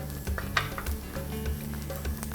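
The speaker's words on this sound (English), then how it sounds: "So this has been sauteing for about 2 minutes" Spices sauté in a pan with a low, steady sizzle, broken by a few light clinks and stirring scrapes from a utensil against the pan.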